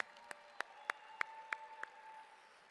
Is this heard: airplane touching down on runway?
no